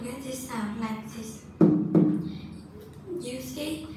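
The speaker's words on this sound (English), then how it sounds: "I use this drum set to get this sound like this." A homemade cylindrical drum, about 15 by 10 centimetres and made from a metal can and tape, is struck twice in quick succession with dull, low thuds. A voice speaks before and after the hits.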